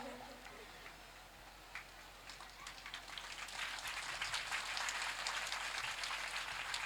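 Audience applause at a Ram Katha religious discourse, a soft, distant patter of clapping from a crowd that thickens and grows steadier over several seconds.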